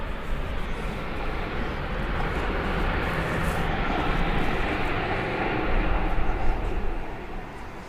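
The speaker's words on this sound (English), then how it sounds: "It's a 787-10 Dreamliner." A Korean Air Boeing 787-10 Dreamliner taxis through a big turn at Seoul Incheon Airport, its engines giving a steady, broad roar that holds fairly loud and constant throughout, with no clear voices over it.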